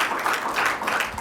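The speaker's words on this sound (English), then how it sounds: "Please give clap hands for her." Audience applause at a community gathering: a short, dense burst of many hands clapping together, fairly close and steady, with no voices over it.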